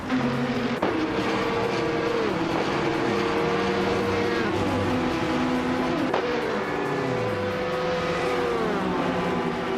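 A 2015 Ligier JSP3 race car in a racing video game screams along with a continuous, loud engine note that rises and falls through gear changes, with no one talking over it.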